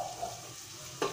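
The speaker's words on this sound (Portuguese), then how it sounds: "Agora, Denise, vou deixar dar uma bem refogadinha pra dar aquela murchadinha na cebola e no alho, igual deu no seu comentário hoje." Chopped onion and garlic sauté in a pan with a faint, steady sizzle, and a single scrape of stirring comes near the end.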